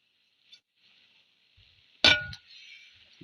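A metal spoon clangs once, loud and close, against a metal pot while jackfruit and sardine curry with coconut and pepper is stirred, with a faint ringing scrape before and after.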